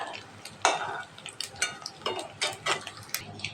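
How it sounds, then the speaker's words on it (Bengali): Fish roe is fried in oil and turned over in a pan, giving close spatula scrapes and clinks against the metal in irregular bursts over a soft sizzle, with no talking. "আমি উল্টিয়ে পাল্টিয়ে ভালো করে ডিমগুলো ভেজে নিচ্ছি"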